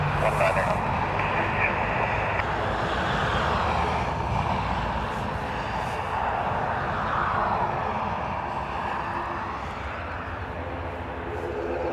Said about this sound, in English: Ryanair from Liverpool next.